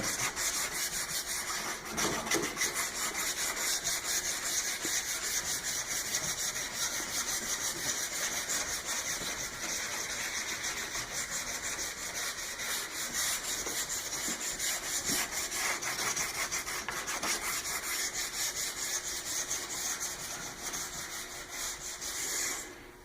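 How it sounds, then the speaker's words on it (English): Downhill skis being polished after waxing, with a steady, continuous rubbing and brushing sound that runs close and fairly even from start to finish, with no talk. "we want to start polishing the wax a little bit more"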